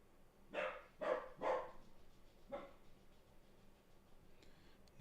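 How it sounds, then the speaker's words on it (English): A dog barks in a kitchen, three quick loud barks in a row, then a single softer bark after a pause, with quiet room noise in between. "Now Max is in the kitchen barking."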